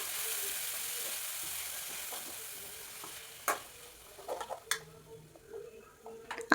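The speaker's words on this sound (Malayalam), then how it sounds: "ഇനി അതിലേക്ക് പയർ ചേർത്ത് കൊടുക്കാം." Long beans hit a hot pan with curry leaves in a faint, steady sizzle, then sharp scattered clicks and scrapes of a utensil stirring against the pan.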